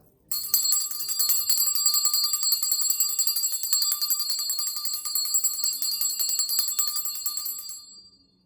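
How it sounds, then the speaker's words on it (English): A bell rings continuously with a bright, rapid metallic trill for several seconds, then stops. "Oh, I forgot to ring the bell."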